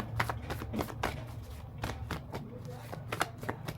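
Tarot cards are shuffled close up in a series of quick riffling bursts and soft slaps, while someone speaks quietly over them.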